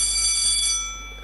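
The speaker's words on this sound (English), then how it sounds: "The bell went before you attempted to speak." A quiz contest buzzer bell rings during a business challenge quarter-final, a bright sustained electronic tone held steadily for about a second before fading, loud and alone with no talk.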